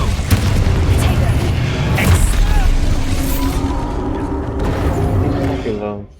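Confringo and Protego spells cast in the Hogwarts Legacy video game: dense, loud blasting booms and crackling magical bursts roll on continuously for several seconds, with a voice shouting over them.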